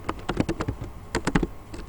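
Rapid, uneven keystrokes on a computer keyboard, a close run of sharp clicks with short pauses between bursts, and no voices.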